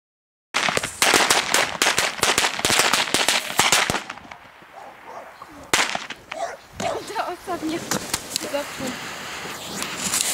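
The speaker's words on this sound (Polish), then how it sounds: "zaczęliśmy strzelać petardami" Firecrackers go off on New Year's Eve in a rural Polish village: a fast, dense volley of sharp, loud bangs, then a quieter pause, then more scattered cracks.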